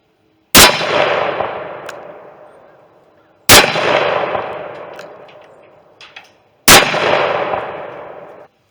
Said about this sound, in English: I'm gonna shoot some hollow points at it